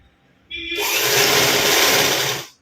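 A sewing machine stitches a high-neck blouse straight through, starting with a brief lower whir before running steady and loud for about two seconds, then stopping, with no talking.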